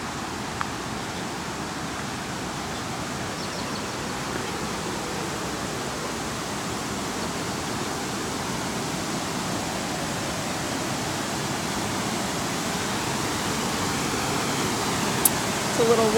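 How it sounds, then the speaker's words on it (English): Waterfall beside a hiking trail in Delaware County, Pennsylvania, giving a steady, broad rushing hiss of falling water that holds even and unbroken throughout. "Waterfall,"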